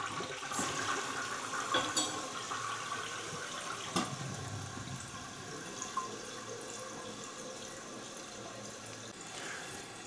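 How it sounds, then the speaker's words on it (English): An older toilet in a small rental flushes with a loud rush of water that gradually settles into a quieter refilling hiss and trickle over about ten seconds. "All right, so we got it to flush."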